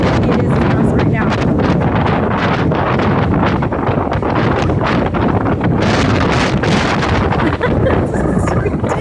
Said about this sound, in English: so you can see just how windy it is in us right now.